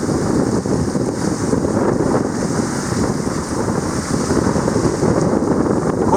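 A sailboat beats into wind on an extreme close reach through four-metre ocean swells in the northern Mozambique Channel, heard as loud continuous wind buffeting and rushing water with no voices.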